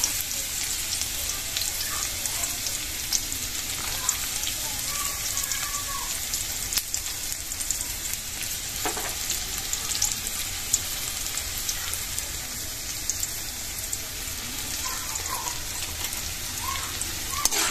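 Garlic and onion sautéing in leftover frying oil, for adobong kangkong, give a steady, dense sizzle and crackle that runs evenly throughout at moderate closeness, with a few small pops and clinks and no talk.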